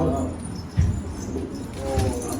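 A male pigeon coos low and throaty, a couple of soft rolling calls close by, with faint background noise.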